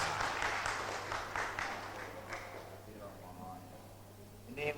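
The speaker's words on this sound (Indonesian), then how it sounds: "Mari kita kasih tepuk tangan sekali lagi." Audience applause at a liturgical music seminar in a church hall, a burst of clapping that fades gradually while people talk over it.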